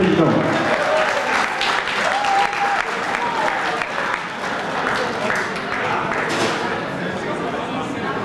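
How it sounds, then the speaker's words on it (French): Sustained ovation and applause from a gala evening audience of a community association, dense clapping filling the whole stretch with scattered voices and a few thuds beneath. "sous un tonnerre d'ovation"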